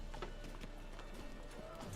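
Hooves of Roach, Geralt's horse in The Witcher, clip-clop at a steady walking pace inside a city, quiet and soft against a dense background of ambient game sound.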